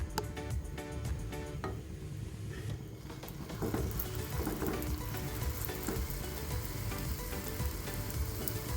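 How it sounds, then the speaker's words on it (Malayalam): Breakfast fries in coconut oil over a medium flame, a loud continuous sizzle and crackle with scattered pops close to the pan. "ഒരു മീഡിയം ഫ്ലെയിമിൽ വെച്ചിട്ട് നമുക്കൊന്ന് തിരിച്ച് മറിച്ചിട്ട് കൊടുത്തിട്ട് ഒന്ന് ഫ്രൈ ചെയ്തെടുക്കാം"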